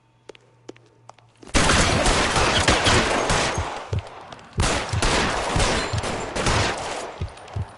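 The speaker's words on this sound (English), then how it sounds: "I quite enjoy a good gunfight." Heavy gunfire erupts in a shootout in LA Noire, dense bursts and rapid shots rolling loudly for several seconds after a quiet lead-in with faint taps, with brief pauses between volleys.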